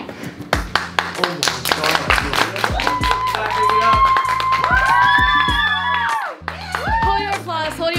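Clapping and cheering from an audience at a school news press conference, a busy run of claps with whoops, overlapping musical tones and voices throughout.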